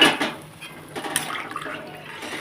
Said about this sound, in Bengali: জলটা রেখেছি গামলায় ঢেলে দেবো